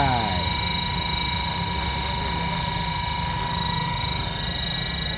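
Schweizer 470-size three-blade RC model helicopter with brushless motor tail conversion settling down to land on grass, a steady whining rotor and motor drone with a high tonal whine, fairly close, under someone talking.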